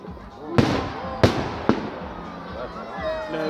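Three sharp, loud fireworks bangs burst in quick succession at a bonfire night display, each trailing into rumbling echoes, with people talking nearby.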